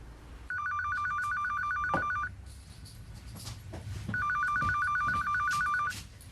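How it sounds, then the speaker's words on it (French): A telephone rings indoors with two long electronic trilling bursts separated by a pause, moderately loud above a quiet room with faint background movement and no voices. "Tony, téléphone."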